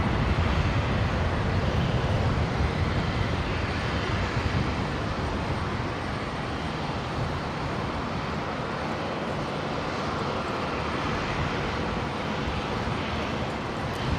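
A Royal Flying Doctor Service Beech King Air turboprop takes off from Brisbane Airport runway 19 right, a sustained broadband engine roar that stays loud and steady with a slight easing in level as it goes on.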